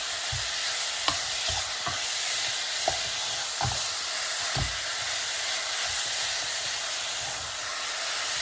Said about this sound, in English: adding our bacon to the saucepan. And we're going to stir quickly